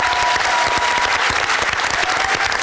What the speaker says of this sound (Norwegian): Vi kan ta en siste runde med applaus for å rekke med akkurat.